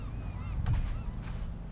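A seagull in the survival video game Sons of the Forest gives a short, honking call over a low background hum, heard alone without speech.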